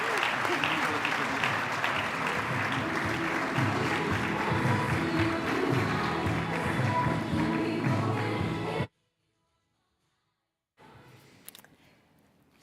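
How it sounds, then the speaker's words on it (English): Audience round of applause at the Pride of Newcastle Awards 2022 ceremony, dense sustained clapping for about nine seconds, then abrupt silence and a faint room murmur with a few taps. "really lovely round of applause."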